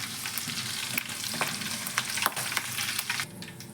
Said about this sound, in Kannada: ಕಟ್ ಮಾಡ್ಕೊಂಡು ಅದನ್ನು ಸ್ವಲ್ಪ ಎಣ್ಣೆಲಿ ಹಾಕ್ಕೊತಾ ಇದ್ದೀನಿ. ಸಿಡಿಯುತ್ತೆ